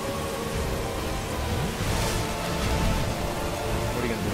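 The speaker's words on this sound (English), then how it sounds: "lightning" Steady heavy rain with rumbling thunder in the dark-fantasy game Dark Souls II during the Looking Glass Knight fight, a dense continuous wash with a low roll swelling near the middle.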